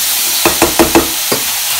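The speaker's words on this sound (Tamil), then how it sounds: "இப்போ கொஞ்சம் நல்லா கிண்டி விட்டு கொஞ்சம் லைட்டா அது இந்த வெங்காயம் எல்லாம் இதல வந்து கோட் ஆகட்டும்" Onions and masala stirred in oil in a frying pan for a cauliflower potato dish, five quick scraping strokes of a spoon against the pan over a continuous sizzle, close and clear.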